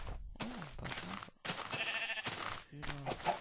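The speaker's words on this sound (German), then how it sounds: "Oh, ein paar Schafe." Sheep bleating in Minecraft, a few short wavering animal calls spaced across a few seconds, fairly close and clear, with game ambience and brief bursts of other noise between them.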